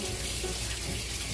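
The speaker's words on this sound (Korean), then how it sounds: "안에 있는 거는 여기는 물로 깨끗이 씻어가지고." Tap water runs steadily into a kitchen sink while mackerel is rinsed clean, a continuous close splashing rush lasting just over a second.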